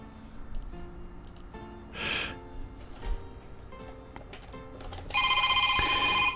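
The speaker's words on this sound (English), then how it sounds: "And I'm getting a phone call." A phone rings with an incoming call: a faint electronic ringtone with bursts of tone, ending in a louder, brighter ring, over quiet background.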